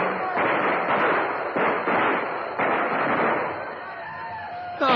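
A rifle volley fired on command during a wartime battle scene in a film, a dense run of loud bursts and cracks over several seconds, close and forceful.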